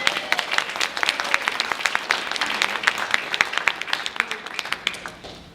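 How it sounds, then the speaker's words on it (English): An audience claps at an opening reception celebrating a public library's 125th anniversary, a steady round of applause that thins and fades toward the end. "Let's have a big round of applause for the library."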